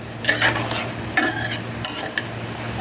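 Vegetables for a sabudana chicken vegetable dish stir-frying in a pan over medium-low heat, a steady sizzle punctuated by three or four sharp clinks and scrapes of a spoon against the pan, close by with no talking.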